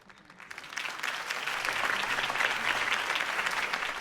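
Crowd applause after a campaign speech in a video game, a broad wash of clapping that swells within the first second and holds steady and full for several seconds.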